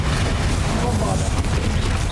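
A Bombarda blasting spell explosion in Hogwarts Legacy, a loud rumbling blast with crackling debris that fills the whole short moment at constant strength, with no clear separate impacts.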